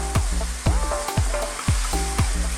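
Ground beef for Greek stuffed eggplant sizzles steadily in a pan as a utensil breaks it up, with repeated scraping strokes against the pan over the constant frying hiss.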